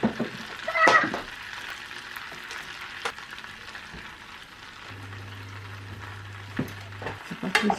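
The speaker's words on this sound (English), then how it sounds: "today I'm going to be browning some butter" Butter browning in a pan for chocolate chip cookie bars, a steady soft sizzle and crackle of bubbling fat with occasional clinks and stirring sounds, faint background noise throughout.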